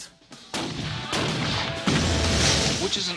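Heavy booming blasts from an all-steel cannon, several loud reports in quick succession with lingering rumble and a faint voice underneath.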